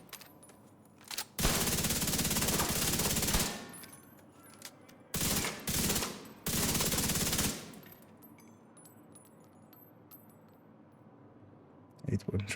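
Video game gunfire comes in three loud bursts of rapid automatic shots, a long burst followed by two shorter ones, separated by brief pauses, with quieter game sounds between them.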